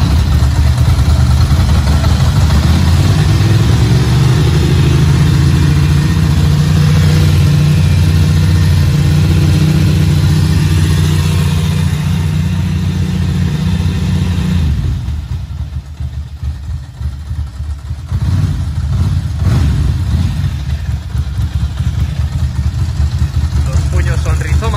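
A Ducati Monster 900 motorcycle engine cranks and settles into a loud, steady idle close by, with its rough rumble continuing throughout and dipping briefly near the end.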